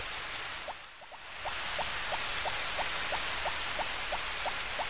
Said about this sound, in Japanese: 雨降ってるけどどうかな